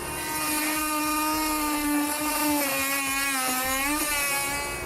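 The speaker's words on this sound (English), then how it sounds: "we'll just take a rotary tool with a cutting blade" A rotary tool with a cutting blade slices through the underbody fascia of a 2007 Infiniti G35 during a trailer hitch install, giving a close, steady, high-pitched whine that dips and recovers in pitch as it cuts.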